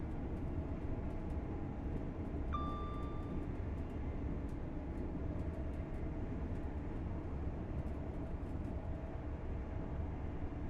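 A Class 801 train in Train Sim World 4 accelerates at full throttle on the East Coast Main Line, giving a steady, loud rumble with traction hum and a brief tonal whine, uninterrupted by talk.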